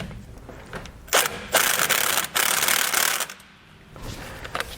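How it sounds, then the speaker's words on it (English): An 18mm socket on a ratchet tightens the bottom nut of a Roadmaster rear anti-sway bar on a 2019 vehicle, with a rapid, near, continuous ratchet clicking in long runs separated by brief pauses. "And then I'll tighten up the nut on the bottom with an 18mm socket."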